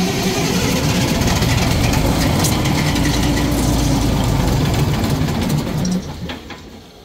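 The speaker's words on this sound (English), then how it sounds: "I want to crank it over, see what it does" A rebuilt Cummins NT855 diesel engine with no turbo fitted cranks over in a loud, steady low-pitched churn for about six seconds before winding down.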